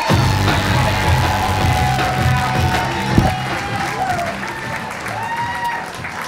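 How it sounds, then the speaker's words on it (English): Comedy club audience in Sarasota applauding and cheering as a comedian takes the stage, loud sustained clapping with whoops and crowd noise throughout, close and continuous, without clear speech. "Big round of applause for Rich Friedland"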